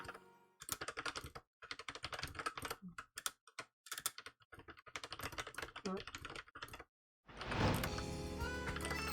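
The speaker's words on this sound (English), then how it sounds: "Sorry, you get to hear typing noises for a second." Rapid keyboard typing clatters in close, uneven bursts with brief pauses between runs, ending in a louder, denser stretch of mixed clicks and sound.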